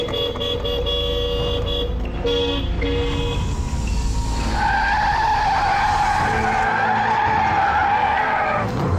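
A car skids loudly and nearby, with squealing tires and a blaring horn, amid dramatic soundtrack music during a tense scene in an Indonesian drama.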